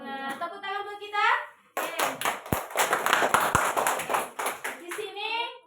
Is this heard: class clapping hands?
yes